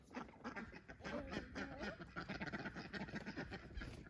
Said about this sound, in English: Don't open the ducks out, Maggie.